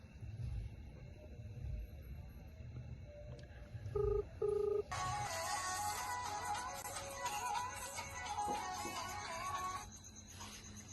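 A phone call being placed in a village: a few short keypad tones around the four-second mark, then a steady ringing or line tone that holds for several seconds over faint background noise.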